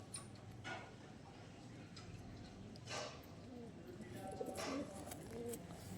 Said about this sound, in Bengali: সব পায়রা উড়ছে